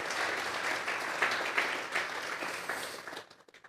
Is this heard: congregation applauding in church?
yes